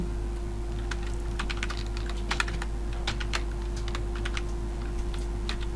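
Rapid irregular keystrokes on a computer keyboard as an address is entered, close and clear over a steady electrical hum, with short pauses between bursts.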